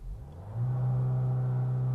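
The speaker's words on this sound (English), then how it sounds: "So when you're revving it, it does become boomy. You can hear the engine noise" A Skoda Slavia engine idles with a low rumble, then rises into a steady, droning rev toward about 3800 RPM that holds a boomy tone.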